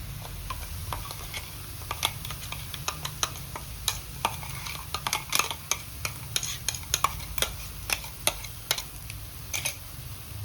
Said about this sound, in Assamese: এইটো চাওক পূৰা ফ্ৰাই কৰিছোঁ তেল উঠি আহিছে